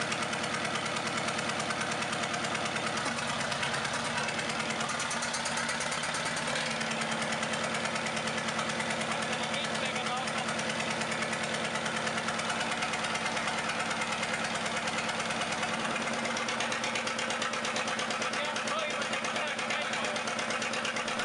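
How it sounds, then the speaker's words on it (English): A vintage JUMZ-1971 engine runs steadily for the whole stretch, a dense, continuous mechanical drone with a knocking, vibrating character, loud and unbroken. Narration plays over it. "Although not as fuel-efficient or clean-running as modern engines, the JUMZ-1971 remains valued by enthusiasts and operators who appreciate its straightforward engineering."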